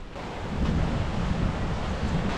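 A swollen river and waterfall rush in a loud, continuous broadband roar beside a forest cabin during a storm, with gusty wind buffeting the microphone.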